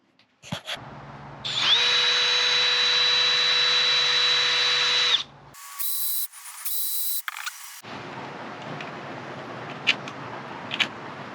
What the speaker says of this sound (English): So, Ben, can you drill the holes a little bit bigger, please?